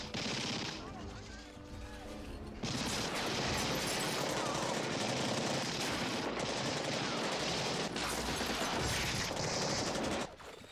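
Tommy gun fire from an old gangster film: dense, sustained bursts of rattling automatic gunfire over a roaring, crackly soundtrack, loud and continuous with brief drops between volleys.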